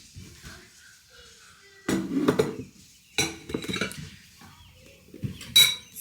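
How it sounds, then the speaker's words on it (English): Dirty dishes and cutlery are handled in a home kitchen after a breakfast-for-dinner meal, giving a few bursts of clattering plates and clinking utensils close by, with quieter pauses between them. "These are dirty dishes, the proof."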